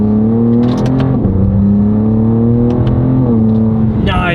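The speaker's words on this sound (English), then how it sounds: "I can appreciate how good the exhaust sounds just by itself." A BMW G87 M2 fitted with a full titanium equal-length exhaust revs and downshifts, its loud engine note climbing and falling in pitch, with a sharp blip near the end.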